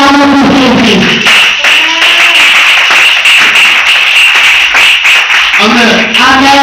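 A church congregation claps for Jesus in loud, steady rhythmic clapping. A singing or chanting voice comes before and after the clapping.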